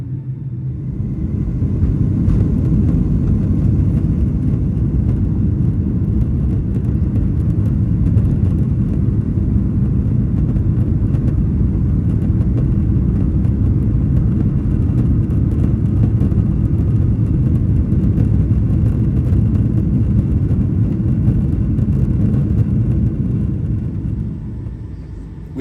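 Steady, loud cabin roar of an older Delta Boeing 757-200 cruising on a short flight to Florida, a broad low rumble with engine whir holding constant throughout, no talking.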